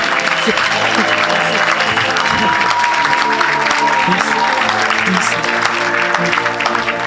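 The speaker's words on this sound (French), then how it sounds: "Acclame." A church congregation applauds in a sustained, dense wash of clapping that stays loud and even throughout, with voices mixed in underneath.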